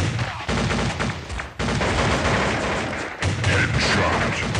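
Continuous, dense gunfire fills a sniper-rifle multiplayer battle in the Critical Strike mobile shooter game, with loud overlapping shots and booms and almost no letup.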